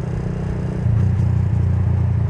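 Low, steady idle of a custom Suzuki Thunder 125 built into a bobber, its quiet exhaust giving a soft, even rumble close by with a slight rise in level midway and no talk.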